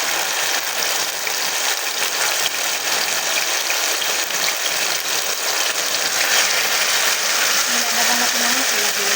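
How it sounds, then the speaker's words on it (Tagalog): Water poured into a cooking pan holding fish escabeche with ketchup, a steady broadband gush that runs the whole time and stays fairly loud and continuous. "Nilagyan natin ng tubig."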